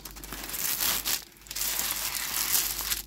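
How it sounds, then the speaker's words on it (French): Transparent protective paper is laid back over a diamond painting canvas, crinkling and rustling close by in soft bursts with a short pause midway. "Ce que je vais faire, c'est remettre le papier transparent"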